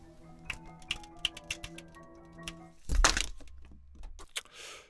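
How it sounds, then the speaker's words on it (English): A deck of playing cards being shuffled and fumbled, with a series of quick crisp flicks and riffles followed by a louder clattering burst as cards spill, then scattered soft taps. "Expert shuffling right here."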